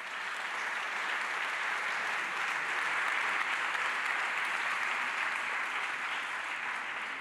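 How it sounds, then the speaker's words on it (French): Festival closing audience applauding association administrators, a sustained, even roar of many hands clapping at moderate distance, continuous for several seconds without talk. "on peut vous applaudir aussi et applaudir les administrateurs des associations qui sont présentes aujourd'hui"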